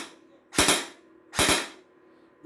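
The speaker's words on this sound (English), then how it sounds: "This is 2 round burst." A submachine gun fires two sharp, loud two-round bursts, each a pair of tightly spaced cracks, separated by about a second of quiet, with another shot beginning right at the end.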